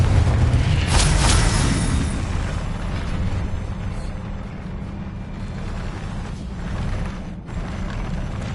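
Fiery Confringo spell blasts erupt in Hogwarts Legacy, a loud booming burst up front that rumbles and fades into a sustained low roar with faint mechanical clatter, no voices.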